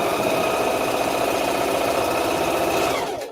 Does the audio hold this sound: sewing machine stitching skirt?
yes